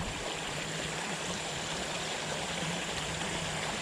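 A tiny creek flows in a steady, fairly loud outdoor rush that stays continuous and unchanging throughout, with no voices.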